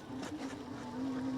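A Mokwheel Scoria electric bike climbs a hill on throttle alone, its motor giving a steady, close whine that rises slightly in pitch over rushing wind noise.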